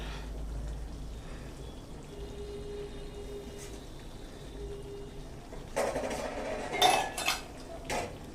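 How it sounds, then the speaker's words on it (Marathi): A spoon scrapes and clinks against a pan as a red pumpkin vegetable curry is stirred, quiet at first, then a cluster of louder metallic knocks near the end over a low background hum. "हे बघा, भाजी छान हलवून घेते"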